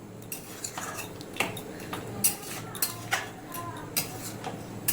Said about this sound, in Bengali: সব কিছুকে আমি একটু ভালো করে মিশিয়ে নেব